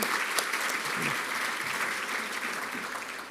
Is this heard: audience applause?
yes